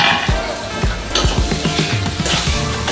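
Eggplant pieces fry in a pan, with steady sizzling broken by repeated scraping and stirring knocks of a utensil against the pan, close and fairly loud, with no voices.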